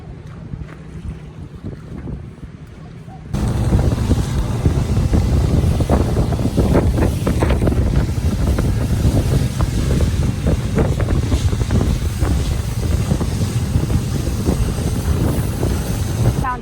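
Quiet ambience gives way to a loud, steady rush of wind buffeting the microphone, with water churning and splashing as a boat moves along.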